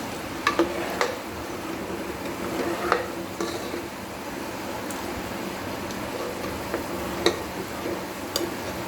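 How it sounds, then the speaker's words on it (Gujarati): Homemade desi cow ghee simmers in a pan with a soft, continuous crackle, while scattered ticks and a few louder clinks of a spoon against the pan come through at intervals. "કેવું સરસ મજાનું ઘી બની રહ્યું છે"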